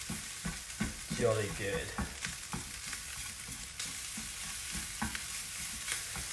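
Black pudding and onions fry with a steady broadband sizzle in a pan while being stirred, with scraping strokes recurring throughout; a brief spoken remark rises over the cooking early on.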